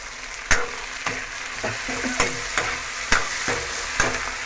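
Tomatoes go into a frying pan of onion, cabbage and potato, giving a steady sizzle broken by sharp, regular clinks and scrapes of a spoon stirring against the pan, with no voices.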